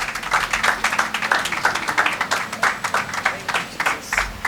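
Audience clapping at a church gathering welcoming Pastor Itoro Effiong Bright, founder of Ibom Soups: a dense, steady wash of many hands applauding together, fairly close and loud, with no talking over it.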